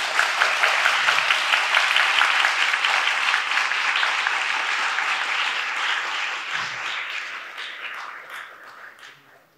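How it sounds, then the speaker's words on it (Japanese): A symposium audience applauds the two guests, a dense, even wash of many hands clapping in a hall that fades and thins toward the end. "ゲストのお二人に温かい拍手をお送りください。"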